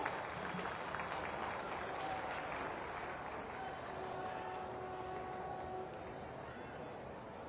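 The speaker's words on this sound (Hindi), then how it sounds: "आप सभी इस मौके पर, इस खास अवसर पर अपनी तालियां मंच तक प्रेषित करें" Audience applause at a civic intellectuals' conference in Mathura attended by a chief minister, a broad, steady wash of clapping from a large seated crowd that holds at an even level throughout, with a faint voice at times underneath.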